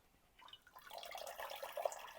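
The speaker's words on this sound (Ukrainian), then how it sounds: "Зливаємо наш маринад." Marinade drains out of home-preserving jars of tomatoes and cabbage, giving a faint, continuous trickle and splash of liquid that slowly grows louder.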